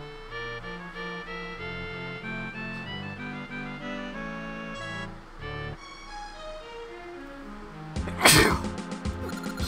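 A sharp, loud sneeze bursts out near the end, set against chiptune music and sound effects from the retro Zelda Classic game.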